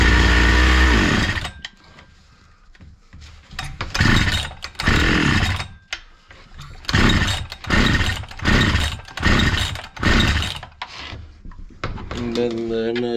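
A Husqvarna 61 chainsaw engine is pulled and started, a rough, uneven run of repeated bursts and sputters roughly once a second, close and fairly loud, with a brief quiet stretch early on.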